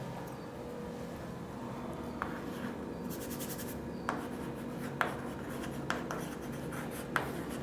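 Pen writing an answer by hand on paper for a physics problem, a steady close scratching with several sharper taps and strokes spread through, alone without talk.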